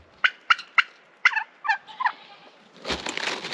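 A heritage breed tom turkey on a homestead gobbles in a series of sharp, close calls, several quick bursts followed by a longer warbling gobble, then rustling noise.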